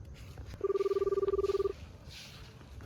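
A phone dials out as a quick run of about fifteen evenly spaced beeps lasting roughly a second, sharp and clear over a quiet room, then silence returns.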